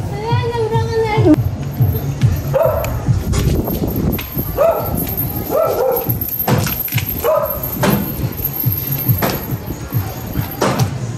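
Pet dog barking in short repeated bursts mixed with whimpers and whines, close and loud, while people talk and call out around it.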